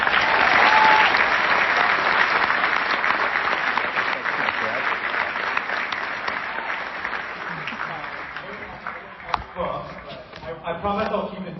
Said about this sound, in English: let's take a second to give them and yourself a round of applause